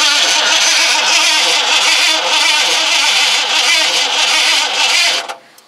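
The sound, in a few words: car engine cranking on starting attempt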